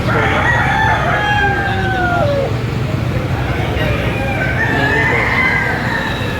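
A rooster crows a few times at an outdoor chicken market in Padre Garcia, Batangas, somewhat distant under steady crowd noise and talk, with a later crow near the end.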